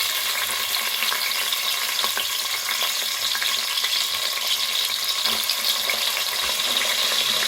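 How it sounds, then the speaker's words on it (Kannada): Onions fry with whole spices and cardamom in a pressure cooker for chicken biryani, a loud, continuous hiss and sizzle with scattered stirring clicks and scrapes. "ಆನಿಯನ್ ಹಾಕ್ತಾಯಿದ್ದೀನಿ"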